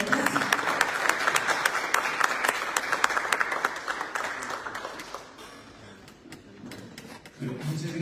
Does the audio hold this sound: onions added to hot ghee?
no